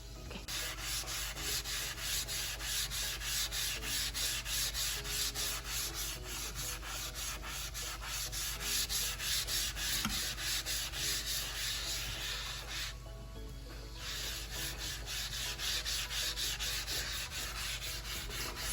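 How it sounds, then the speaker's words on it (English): Bar Keepers Friend cleanser is scrubbed into a white porcelain sink in rapid, rhythmic back-and-forth strokes, close and steady with a brief pause before the rubbing resumes. "Scrubbing this definitely require a lot of strength, your upper body strength in particular."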